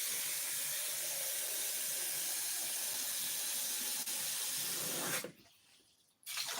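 Tap water gushes steadily into a cooking pot, a loud constant rushing hiss that runs for several seconds, briefly cuts out, then resumes.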